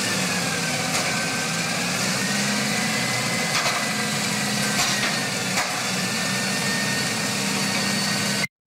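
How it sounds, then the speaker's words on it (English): A tow truck engine idles steadily and fairly loud, with a continuous low rumble and a few faint clanks or knocks scattered through it. It runs alone with no talk and cuts off abruptly at the end. "Tow truck."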